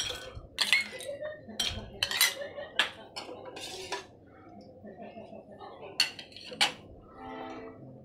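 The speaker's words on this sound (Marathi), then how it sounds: "आता आपण ग्लास तयार करून घेऊया. बर्फ टाकूयात आपण." Ice cubes drop into a glass being readied for a khus milkshake, giving a handful of bright clinks and knocks spread over several seconds against a quiet kitchen background.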